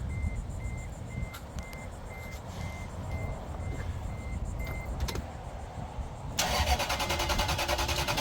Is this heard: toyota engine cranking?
yes